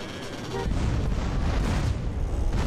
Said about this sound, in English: Damn, everything's blowing up.